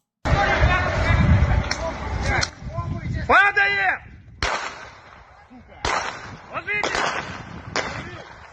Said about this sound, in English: We could hear the gunfire in the background.